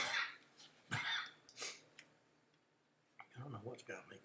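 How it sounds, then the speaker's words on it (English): A person coughs several times in short, harsh bursts close to the microphone, with brief pauses and a throat-clearing sound between them. "I don't know what's got me coughing so bad today."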